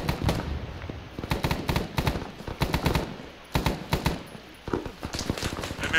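Gunshots in a military video game: bursts of rapid automatic fire and single cracks in irregular clusters, loud and close, with short gaps between volleys.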